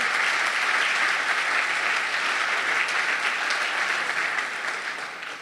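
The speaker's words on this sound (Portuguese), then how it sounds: "vamos dar um aplauso aí" Congregation in a church breaking into sustained, dense applause, loud and steady at first and then tapering off, with no talking over it.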